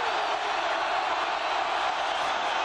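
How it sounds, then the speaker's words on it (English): Football stadium crowd roaring at Oregon versus Oregon State, a dense, loud, sustained wash of cheering with no break for the entire moment. "Now the crowd's starting to get into it as well."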